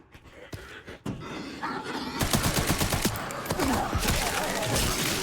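Gunfire in the survival-horror game Resident Evil Requiem: a few isolated shots early on, then a dense, rapid burst of repeated shots that continues loudly to the end, with no talk.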